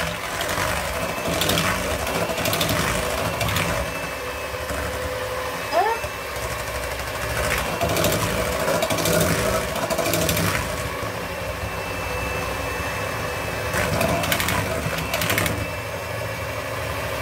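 An electric mixer whirs steadily at first speed as egg whites are whipped for tiramisu, a constant motor drone heard under someone talking throughout.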